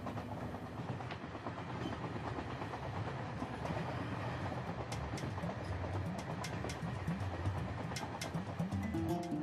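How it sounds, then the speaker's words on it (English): Steady rumble and rattle of a train heading south toward Nubia, rolling along the tracks with clicking wheel noise and metallic squeaks throughout, no voices. "I'm on a train heading south to the land of Nubia."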